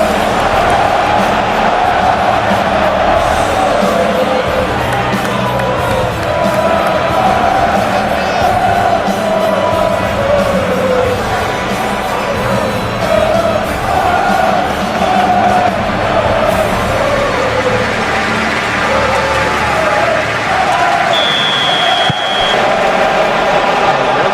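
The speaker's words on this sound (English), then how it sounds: "a capacity crowd here" Capacity stadium crowd at a Premier League football match between Fulham and Manchester City produces a steady, loud roar of cheering and chanting throughout, with a distant whistle near the end.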